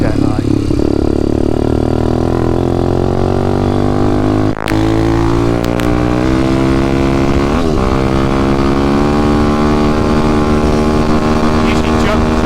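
A Demon X 170 motorbike engine drones loud and close during a top speed run, its pitch climbing steadily through the gears, with rider speech partly over it.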